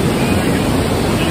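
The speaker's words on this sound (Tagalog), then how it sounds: "Waterfall." A waterfall in British Columbia, Canada roars as a loud, steady, close rush of broadband noise, unbroken and even throughout.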